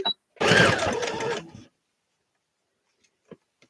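A sewing machine stitches bias binding in a short dense burst of about a second, followed by near silence and a couple of faint clicks.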